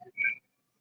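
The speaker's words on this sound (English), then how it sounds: "Long shot on net, glove save, and held on to by Stutzer for a whistle with 4:15 left here in the third period." A single sharp referee's whistle blast during an ice hockey game in the third period, brief and fairly close, with faint arena sound just before it.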